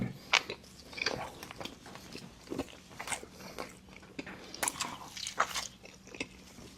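Someone eats fresh raw shrimp with rice and Japanese spring onion, making close, irregular wet bites and crunchy chewing that continue throughout with no talking.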